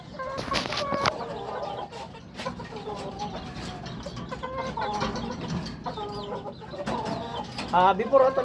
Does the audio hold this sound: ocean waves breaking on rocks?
no